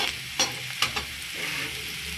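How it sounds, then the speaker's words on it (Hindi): Garlic browning in oil in a pan, a steady bright sizzle broken by three distinct stirring scrapes early on, close and loud with no speech. "इसको हमें अच्छी तरह से ब्राउन करना है लहसुन को"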